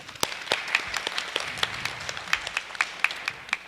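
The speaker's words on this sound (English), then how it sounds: "please give yourselves a round of applause" Light applause from an audience at a school district board of education meeting in an elementary school, scattered claps with some sharper individual hand claps standing out, fairly distant and thin, with no talking.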